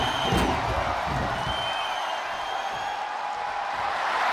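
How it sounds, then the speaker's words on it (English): A large wrestling arena crowd roars in a steady, broad wash of cheering and noise, with a sharp thud early on, heard from a distance without commentary over it. "The sound of this crowd is deafening, and he's asking for more."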